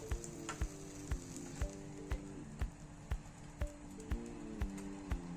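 Mustard oil sizzles steadily in a kadai while chicken curry is being prepared, a continuous hissing fry with a series of regular light taps running through it, no voices.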